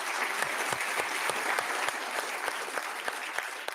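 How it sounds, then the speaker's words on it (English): Audience applause at a conference on NATO and security, a steady wash of many hands clapping with distinct sharp claps, fairly faint and distant, with no talk. "So give them an applause"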